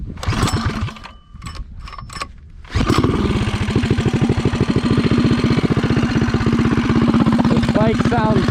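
A Megamoto motorcycle engine cranks with a few sputtering attempts, then fires up into a loud, rapid, steady idle that thumps on close by.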